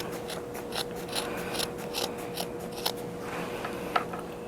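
Scissors snip through t-shirt fabric for a no-sew mask in a quick series of close, crisp cuts, the blades clicking in an uneven rhythm with no voice over them.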